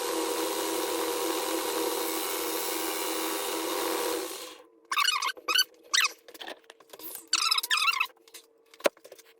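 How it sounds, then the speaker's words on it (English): A tool cutting a chamfer on the cylinder base of a Stihl MS461 chainsaw, a steady whirring drone for about four seconds, then short squeaky scraping bursts with gaps between. "I want to take a look at the chamfer on this and see if I can cut a chamfer."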